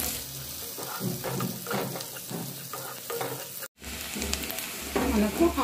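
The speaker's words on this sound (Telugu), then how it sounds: "మనకు ఆనియన్ మంచిగా ఫ్రై అయిపోయినాయండి." Onions for biryani fry in a pan with a steady close sizzle and occasional stirring scrapes, briefly cutting out before the hiss resumes louder at the end.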